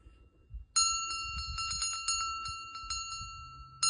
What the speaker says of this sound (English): This one, I believe, is an old ship bell.